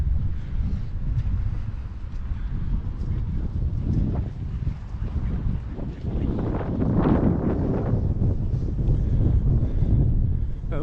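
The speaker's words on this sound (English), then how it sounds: "It's just days like today where it's extremely windy." Strong wind buffets the microphone at a choppy waterfront in Palma de Mallorca, a steady low roaring rumble that swells louder toward the end, with no talk.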